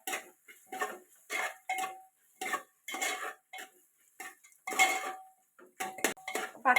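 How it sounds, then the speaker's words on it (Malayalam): A metal spoon scrapes and clinks against a pot while biryani masala with onions is stirred, in steady bursts of short, close clattering strokes separated by brief pauses. "നല്ലപോലെ ഇളക്കി യോജിപ്പിച്ചെടുക്കാം കേട്ടോ"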